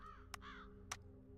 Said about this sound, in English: I hear a crow though.